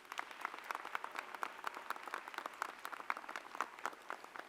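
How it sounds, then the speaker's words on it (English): Graduation ceremony crowd at a University of Calgary convocation clapping steadily, a dense, sustained wash of applause from many people heard from a distance and continuing without pause. "let's give another round of applause for Catherine doing that right."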